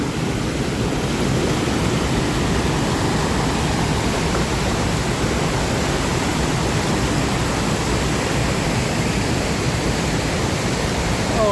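Haew Suwat waterfall in Khao Yai National Park roars as a steady, dense rush of falling water, loud and unbroken throughout with no voices.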